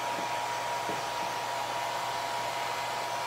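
A hair dryer blows steadily on a synthetic wig, a continuous close whooshing drone with a faint tonal hum, unchanging over a few seconds.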